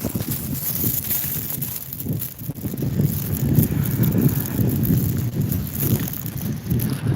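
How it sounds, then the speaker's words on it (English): Strong wind buffets an outdoor microphone in Korea, a steady low roaring rumble with gusty swells that runs unbroken for the whole stretch. "Get out of this wind."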